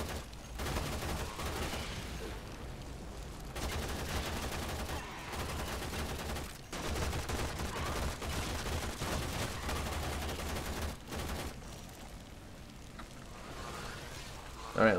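Rapid bursts of gunfire from a Warframe sci-fi shooter battle, dense and continuous with short breaks, mixed with game effects and occasional talk.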